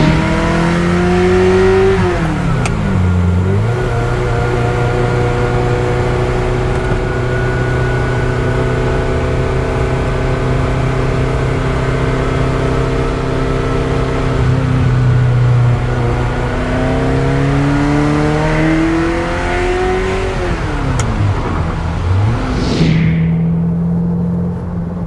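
A Ferrari 348 drives with its engine revving loud and close, pitch climbing and falling through gear changes for the whole stretch, with no talking.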